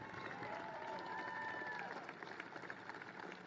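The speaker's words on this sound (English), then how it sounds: "Give me a big round of applause for the Penn Energy team." An outdoor crowd at a political rally applauds and cheers for the Penn Energy team, a faint, steady wash of clapping with a brief whistle, heard from a distance.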